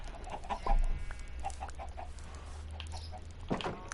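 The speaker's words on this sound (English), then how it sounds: "Chickens!" Chickens cluck repeatedly in a Minecraft survival game on PS4, their short clucks scattered at moderate volume over a low background hum, with a louder squawk near the end.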